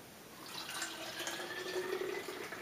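Cold water pours steadily into a container while a wine is being started, a continuous close hiss with a faint rising pitch as the vessel fills, no talking.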